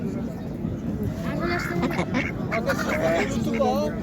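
Ducklings at a livestock market give high, wavering quacking peeps among a noisy crowd, with people talking and bargaining nearby.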